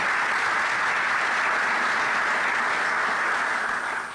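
Steady audience applause fills a county government address in Erie County, a dense, even wash of clapping that holds throughout and begins to thin only at the very end.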